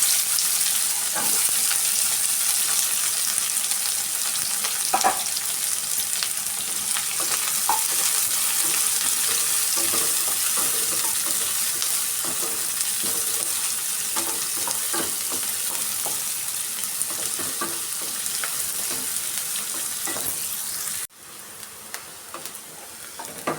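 Buttermilk chillies fry in a pan with a steady, close sizzle and crackle, broken by occasional small pops and stirring clicks, running continuously without talk.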